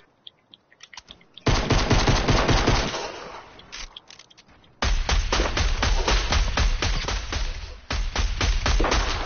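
Rapid automatic gunfire in a shooter video game, loud dense bursts of shots with brief pauses between volleys, continuing nearly throughout.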